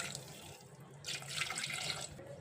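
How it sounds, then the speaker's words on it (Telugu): Tap water running steadily into a pot of washed raw rice, a continuous splashing stream that swells louder partway through, with no talk. "దీనికి తగినంత నీళ్ళు వేసుకోవాలి."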